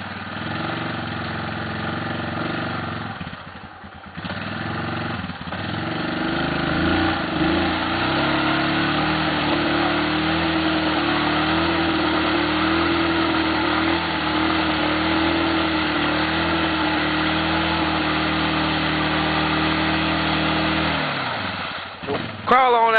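A Yamaha off-road vehicle engine labors through thick Arkansas mud, a sustained mid-pitched drone that revs and rises after a brief dip, loud and close throughout.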